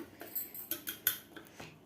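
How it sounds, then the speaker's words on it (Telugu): A spoon stirs chopped onion into curd in a bowl for buttermilk curry, making about half a dozen quiet, irregular metallic clinks and scrapes close by, with no talking. "ఆనియన్ బాగా కలిసిపోవాలండి పెరుగులో"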